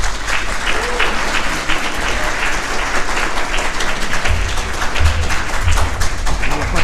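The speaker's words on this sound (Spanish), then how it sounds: "Un aplauso, por favor." Audience applause at a book launch, close and loud clapping sustained for several seconds with occasional low thumps from the stage area and no break.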